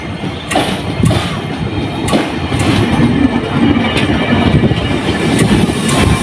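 KRL commuter electric train rolling through the Depok junction switches just after leaving Depok station, a loud continuous rumble with repeated wheel clacks over the points close by throughout.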